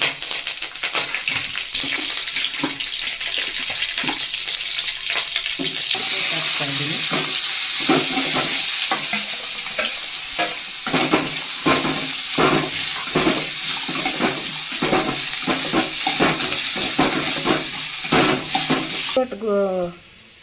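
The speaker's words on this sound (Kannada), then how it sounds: "ಸಾಸಿವೆ ಹಾಕ್ಕೊತಾ ಇದ್ದೀನಿ ಸ್ವಲ್ಪ ಕಡಲೆಬೇಳೆ ಸ್ವಲ್ಪ ಕರಿಬೇವು" Mustard seeds, chana dal and curry leaves sizzle and crackle steadily in hot oil, a loud close frying hiss with scattered pops and stirring clinks running throughout.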